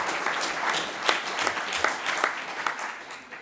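Crowd at a left-wing political event on war and peace applauds Jan van Aken, dense and fairly loud clapping from many hands that holds steady and tapers slightly at the end.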